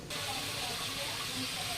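Broiler chicken braising slowly in a covered pan with chopped tomato on low heat makes a steady, close hiss and soft sizzle that starts abruptly and holds evenly.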